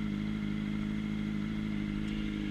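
A Honda CBR600RR sport motorcycle engine runs with a steady, even drone at a constant pitch, close and continuous with no speech over it.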